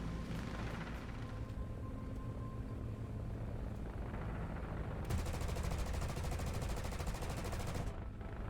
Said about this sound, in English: Kozhedub approached the Shtuka and after several long bursts managed to shoot it down.